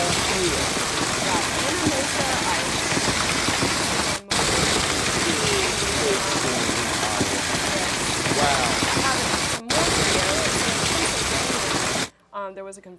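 Hail falls hard and continuously in a dense, loud roar of pelting ice during a stormy night, with two brief breaks before it cuts off.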